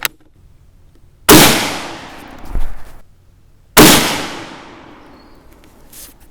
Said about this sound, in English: And that was the last shot.